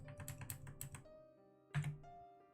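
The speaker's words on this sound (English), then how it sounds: "Sorry if the typing is annoying" Close, quiet typing on a computer keyboard, a quick run of soft plastic key clicks, a pause, then a final firmer keystroke, with no talking.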